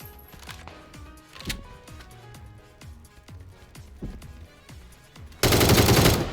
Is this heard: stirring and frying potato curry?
no